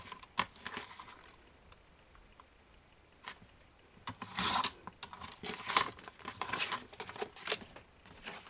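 Scissors cut paper craft pieces in half, making soft, close snips and rustling rasps in short irregular bursts that are clustered toward the end. The sound is faint overall, with no talking.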